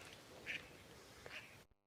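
Seaside birds, heard as duck-like quacking calls at a distance, two short bursts over faint wind and surf ambience before the sound cuts off.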